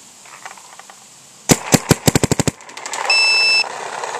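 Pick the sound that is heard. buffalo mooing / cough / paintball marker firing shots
paintball marker firing shots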